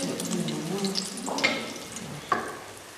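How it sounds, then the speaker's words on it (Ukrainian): Food deep-fries in hot oil with a busy crackling sizzle, plus a couple of sharp splashy bursts as pieces are dipped, close and fairly loud. "а зараз ми будемо його смажити у фритюрі"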